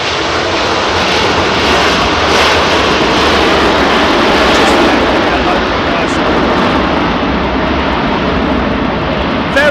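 Airliner engines roar loud and steady on landing approach to runway 27R at London Heathrow, a continuous broad rumble with no gaps.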